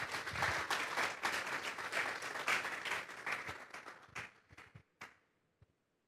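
A church congregation breaks into loud, sustained applause, dense clapping filling the room before tapering off into a few scattered final claps and silence.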